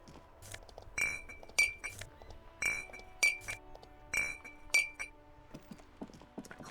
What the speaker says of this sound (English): Clinking noise is making my head ache a little.